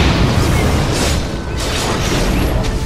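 Bomb blasts from the Dragon Age Origins video game, a dense continuous low rumble with booming bursts filling the whole stretch, loud and close, with scattered crackling on top.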